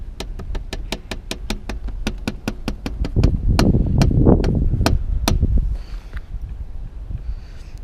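A car knocks from the front end, a rapid steady series of sharp clicks that slows and fades as a rumbling engine and wind noise swell, then drops back to a low hum.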